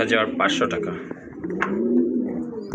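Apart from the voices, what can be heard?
pigeons cooing at a pigeon farm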